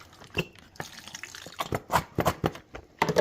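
Liquid marinade is poured from a container into a bag, giving a run of soft, irregular wet splashes and glugs, close and fairly quiet.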